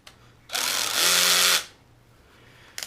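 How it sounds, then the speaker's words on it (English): A power drill whirs in one short burst of about a second while removing bolts from an X-Maxx RC truck, high and buzzing, then cuts off, with light clicks before and after. "Make sure you got your clutch on your drill set so it won't slip, because you are taking bolts out"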